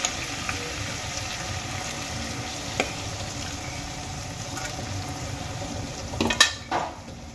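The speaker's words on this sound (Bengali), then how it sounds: "এবার খুব ভালো করে ছোলার ডালগুলো আমি মশলার সঙ্গে মিশিয়ে নেব" Boiled chana dal being stirred with spices in a pan: a steady, close sizzle with soft scraping, and a brief clatter near the end.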